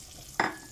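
Butter dropped into a hot pan, a sudden sharp sizzle that bursts in loud and then hisses steadily for a moment after a quiet lead-in.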